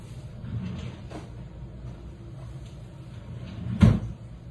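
A drawer in a family home is pulled open or pushed shut. A low background hum runs throughout, and a single firm wooden thump lands near the end, with no speech over it.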